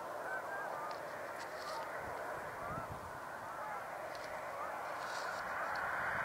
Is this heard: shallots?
no